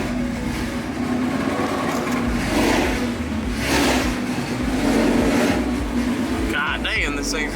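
The engine of a Ford Mustang S550 runs rowdy and loud, a steady low drone with swelling surges, and brief mechanical clatter near the end.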